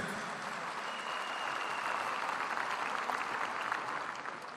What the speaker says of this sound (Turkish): kadınları yürekten alkışlıyoruz